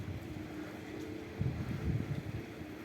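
Wind buffets a microphone while fishing by a river near Yakutsk, a low, rumbling roar with uneven gusts that swell and fade over a few seconds. No talking.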